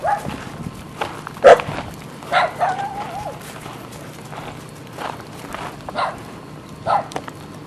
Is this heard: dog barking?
yes